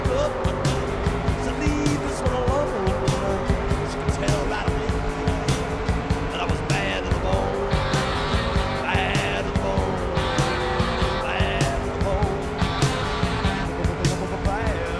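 A desert car in the racing game Trackmania drives continuously, with a constant engine drone and frequent tyre skids and squeals. The sound is dense and loud throughout, with no pauses.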